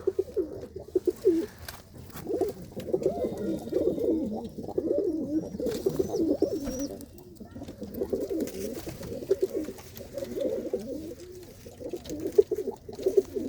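Racing pigeons coo continuously nearby, overlapping low throaty rolls rising and falling in a dense, unbroken chorus, with faint higher chirps now and then.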